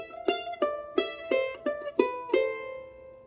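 Charango melody phrase mixing open first and fourth strings with fretted second-string notes: seven crisp plucked notes at an even pace, close and unaccompanied, the final note left to ring.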